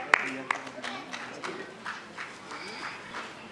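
Applause at a theatre performance of a play based on a Maithili Sharan Gupt poem, a few sharp claps followed by scattered, fading clapping under a speaking voice.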